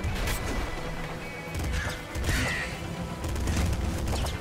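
Booming explosions and crashing blasts in the top-down shooter Nuclear Throne, several heavy bursts in quick succession over about four seconds, loud and close with scattered crackling debris.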